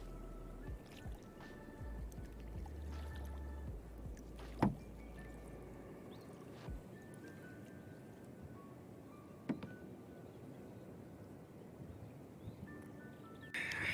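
Gentle canoe paddle strokes dip and splash in calm water at irregular intervals, with soft drips and a few knocks against the canoe.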